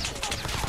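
Dense, rapid gunfire crackles through a ranked Call of Duty match in a continuous, loud burst of overlapping shots lasting under a second.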